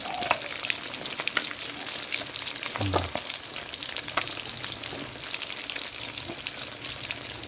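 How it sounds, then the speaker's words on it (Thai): Fish deep-frying in boiling oil, a steady close crackle and sizzle running throughout with occasional stirring scrapes. "เดือดเลยน้ำมัน"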